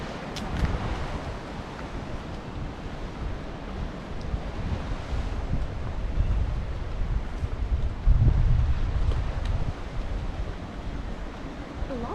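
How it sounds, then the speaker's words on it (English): Breezy wind sweeps along the coast at Dubrovnik, Croatia, buffeting the microphone in steady gusts over a faint wash of sea surf, with no talking. "It's very breezy"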